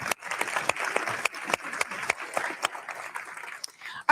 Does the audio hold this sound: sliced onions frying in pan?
no